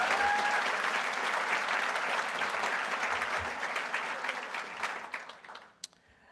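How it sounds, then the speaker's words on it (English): A fundraising breakfast audience gives a full round of applause, a broad steady clatter of many hands that tapers off into a few last claps and falls quiet. "give her a round of applause anyway"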